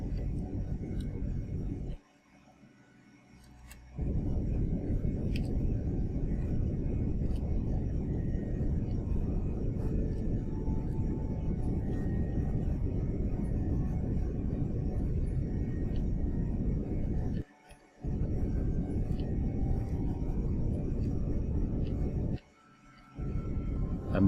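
Rocket engine throttle pulsed in Kerbal Space Program: a loud, steady low roar that cuts out abruptly three times for brief gaps before resuming, close and continuous.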